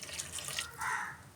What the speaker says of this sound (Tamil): ஒரு கிளாஸ் தண்ணி விடுவோம்